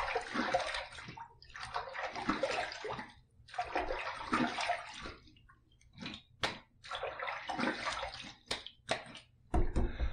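Water splashes in repeated bursts while rinsing after a pass with a Pearl antique brass safety razor, close by, with brief drips and pauses between the runs.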